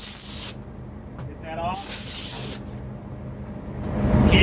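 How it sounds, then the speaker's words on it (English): High-pressure dry compressed air blasts into the crevices of a kitchen cabinet's floating panel in two loud hissing bursts, with a short spoken remark between them. "always take high pressure air, dry air."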